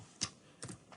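Computer keyboard typing by a developer writing JavaScript, picked up as three quiet, sharp key clicks spaced irregularly within a second and heard on their own.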